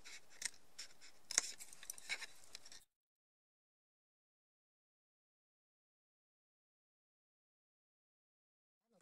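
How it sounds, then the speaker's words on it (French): Scissors snip through card at an angle in a run of short, close, crisp cuts lasting under three seconds, followed by silence. "On coupe un petit peu en biais de manière à ce que ça s'imbrique parfaitement après."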